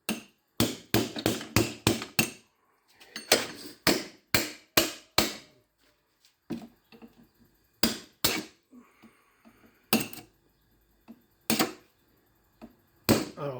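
Iron transformer laminations are hammered apart in a series of sharp metallic blows, quick bursts of several strikes separated by short pauses, loud and close with nothing else in between.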